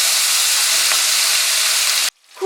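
Hilsa fish frying in hot mustard oil in a wok, with a loud, close, steady sizzle that cuts off abruptly near the end.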